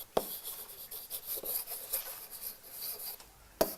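Writing on a board, with soft rubbing strokes of a marker or chalk in short irregular bursts and two sharp taps, one at the start and one near the end. The sound is quiet and close, with no talking.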